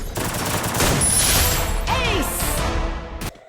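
Rapid gunfire bursts in the Free Fire video game, a dense fusillade of loud, close shots running for several seconds before cutting off abruptly.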